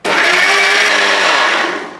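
A kitchen blender whirs loud and steady, blending banana, sugar and milk, then winds down at the end.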